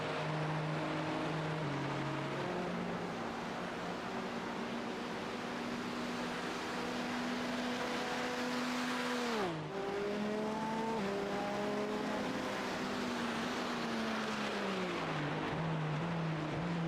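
Race car engine from a sim-racing endurance game, running steady high revs along the Mulsanne, then a sharp downshift and braking drop near halfway before climbing again through the gears, loud and continuous with no talk.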